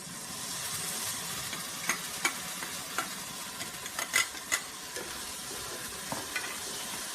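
Ground masala paste sizzles steadily in a pan with cooked onion and tomato for a pea masala, with scattered sharp clicks and scrapes of stirring over the constant frying hiss and no talking.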